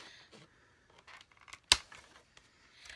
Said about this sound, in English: I'm going to open this up with you guys with my trusty scissors